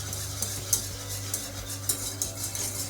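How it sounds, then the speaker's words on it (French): A whisk or spoon stirring thickening pastry cream in a saucepan, with faint repeated scraping strokes against the pan over a low steady hum, quiet and without speech. "je mélange jusqu'à ce que ça épaississe"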